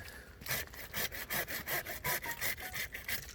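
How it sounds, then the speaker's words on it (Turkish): A handsaw cuts through a branch while a three-year-old almond tree is pruned, giving steady back-and-forth rasping strokes, roughly four per second, loud and close, with no talking. "Bunu bırakıyoruz, şunu alıyoruz abi testereyle."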